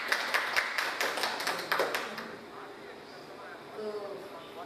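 Brief burst of clapping at a nursing college training workshop, a quick run of sharp claps over about two seconds that fades into quiet room tone with faint voices.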